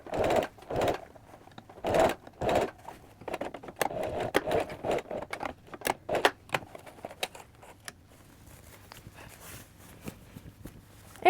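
A domestic sewing machine stitches fabric beside elastic on an underwear garment, running in short bursts of rapid mechanical clatter with pauses between, then lighter intermittent ticks and handling noises toward the end.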